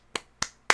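Three loud, sharp hand claps, close and evenly spaced about a quarter second apart.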